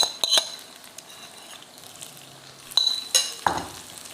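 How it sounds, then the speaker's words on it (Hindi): Minced meat keema frying in a pan for a Mumtaz Mahal keema dish, with a soft steady sizzle broken by a few stirring scrapes and light utensil clinks close by. "अब हम इसको थोड़ा सा भूनेंगे।"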